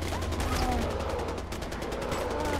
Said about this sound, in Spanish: eso es que son disparos, pero que no me dan